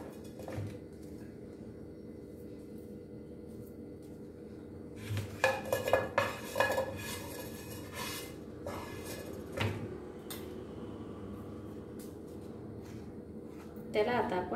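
A spatula clinks and scrapes while spreading a cocoa powder mixture over milk powder barfi in a kitchen, with a cluster of close utensil knocks in the middle and a faint background hum.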